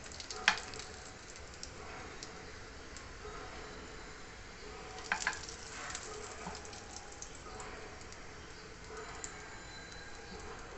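A fish roll fries in hot oil, a faint, steady sizzle with a few sharp pops and crackles scattered through it.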